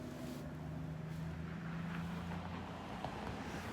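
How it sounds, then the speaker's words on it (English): A semi truck engine in the distance gives a steady low drone that runs continuously under a broad, windy outdoor wash, with no voices. "I'm hearing this semi engine that's really loud, or whatever it is."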